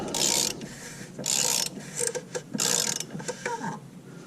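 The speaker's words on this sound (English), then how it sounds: "I'll get out my 24mm socket, and we're going to give her some turns here" A ratchet wrench turns a 24mm socket on the oil filter cap of a Jeep Wrangler JK, giving bursts of rapid clicking strokes separated by short pauses and lighter rubbing handling noises, close and alone.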